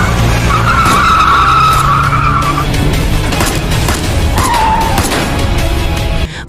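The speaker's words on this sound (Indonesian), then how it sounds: "sebuah mobil hitam tiba-tiba menghampiri mereka dan menculik Suling beserta ayahnya" A black car in a film scene screeching up, with loud tire squeals in two long bursts over engine noise and road rumble, close and without speech.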